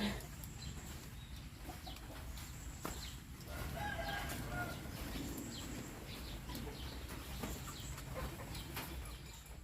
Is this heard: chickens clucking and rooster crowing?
yes